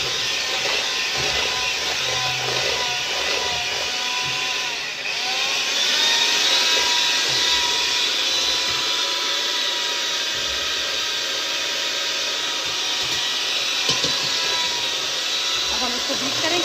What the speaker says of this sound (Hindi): इसको मैं अच्छे तरीके से बीट करूंगी तकरीबन 5 से 7 मिनट के लिए